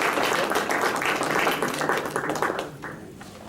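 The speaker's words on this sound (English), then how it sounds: "Please join me in an applause for them." Applause from an audience honoring a business growth panel, a steady dense wash of clapping at moderate distance that gradually thins and fades toward the end.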